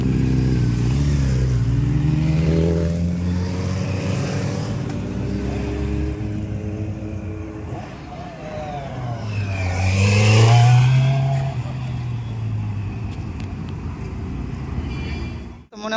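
A superbike's engine revs with a loud, steady growl that swells to a higher, strained peak midway, then settles back and cuts off abruptly at the end.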